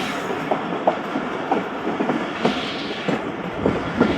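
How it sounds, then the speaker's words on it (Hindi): The Jaffar Express, an AC business-class train running from Peshawar Cantt to Lahore through hilly country, rolls along the rails with a steady rumble and a regular clickety-clack of wheels over the joints, heard close with no talk. "ये देखें जनाब, इस पहाड़ के अंदर से आई है ट्रेन।"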